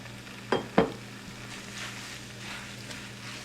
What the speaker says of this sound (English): We'll start adding back our vegetables.